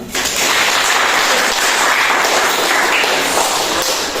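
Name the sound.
classroom applause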